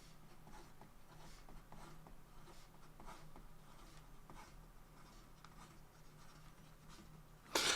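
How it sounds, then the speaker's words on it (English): A Stilo & Stile Leonardo Poliedrica Desiderio fountain pen scratches quickly across paper in steady, rapid strokes, close and soft, ending in a brief louder rustle. "And then in regard to some fast writing,"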